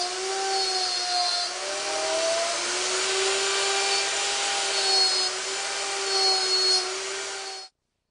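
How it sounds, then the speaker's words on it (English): Homemade slot mortising machine cutting mortises in wooden table legs, a loud, close, steady high motor whine with a wavering pitch as the bit works the wood, running continuously for about seven seconds before stopping abruptly. "I'm using my homemade slot mortising machine to cut the mortises"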